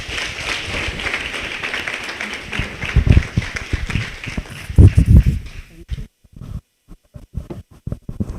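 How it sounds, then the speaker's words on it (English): Audience applause at a college event, moderately loud and uneven clapping with a few heavier thumps that thins out and breaks into scattered claps toward the end. "Let's give a round of applause."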